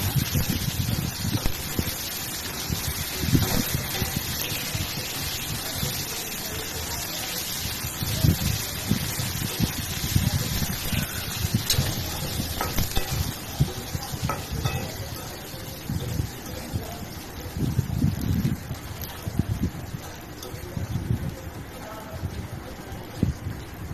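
Raisins fry in a pan over low heat, giving a steady, soft, close sizzle and crackle that runs throughout with small bubbling bursts.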